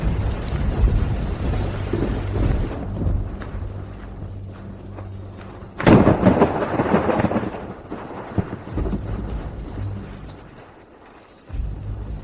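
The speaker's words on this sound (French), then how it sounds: "Madame Jones, il pleut." Thunderstorm with rain, a loud rumbling thunder burst rising midway over a steady wash of rainfall, with lower rumbles fading in and out before and after.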